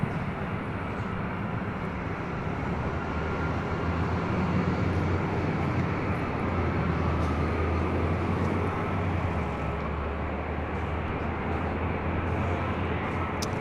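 Delta Airlines Boeing 737-800 inbound from Seattle landing at LAX on runway 24 left, a loud continuous jet engine roar with low rumble holding steady throughout.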